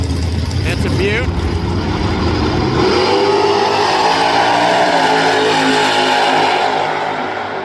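A Hemi-engined car at a raceway gives a loud, sustained engine roar that rises and holds steady at close range, with voices mixed in at the start.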